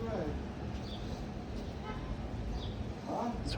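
A car horn toots a few times over steady roadway traffic noise, with muffled voices nearby.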